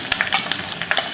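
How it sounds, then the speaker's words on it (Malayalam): Shallots sizzling in hot oil with mustard seeds that have already popped, for a dried shrimp and green mango curry; a steady crackling fry with sharp pops and stirring spatters throughout, close and fairly loud, with no talking. "കടുക് പൊട്ടി ഞാൻ ഉള്ളിയും കൂടെ ഇടുവാണേ."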